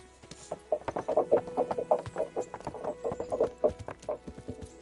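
A horse's hooves clop in a quick irregular rhythm in the video game Kingdom Come Deliverance, with snorts and a whinny mixed in, close and fairly loud, with no talking.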